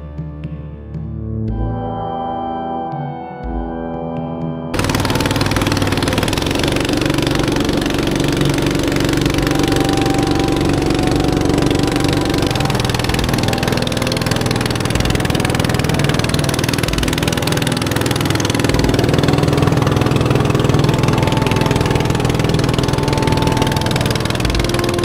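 A boat engine drones loudly and steadily during a river ride between hills in Bangladesh, kicking in after a few seconds of quieter sound and then running continuously at close range without talk.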